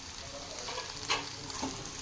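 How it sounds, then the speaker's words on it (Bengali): Curry leaves drop into chicken frying in a pan, bringing a steady close sizzle with a brief crackling burst as they hit the hot oil and a bit of stirring. "এবার এতে দিয়ে দিচ্ছি আমি কারি পাতা।"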